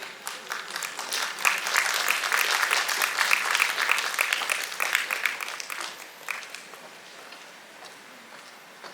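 An audience bursts into dense, sustained clapping to welcome family members onto the stage at a Mohiniyattam success celebration, then the applause gradually thins and fades toward the end.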